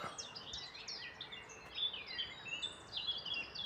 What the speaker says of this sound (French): Invasion matinale de merle.